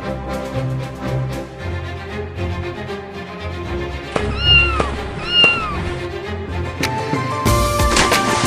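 An animated cartoon cat meows twice in close succession, sharp and plaintive, over a steady background music bed, with a few thuds and a rising burst of sound near the end.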